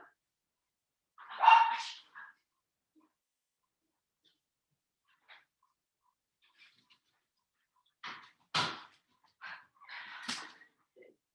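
A dog barks a few times at a distance, a short burst early on, then scattered barks and yips after a long quiet stretch, heard during a calm home yoga or stretching session.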